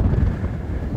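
Strong wind buffeting the microphone on the summit of Litlihrutur volcano in Iceland, a steady low roar with gusty swells, loud and close, with no talk.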